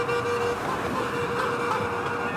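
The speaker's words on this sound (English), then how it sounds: "It's the sound of honking" Car horns honk among traffic at a street protest and vigil in Colorado, a sustained toot layered over steady roadway noise, fairly loud and continuous.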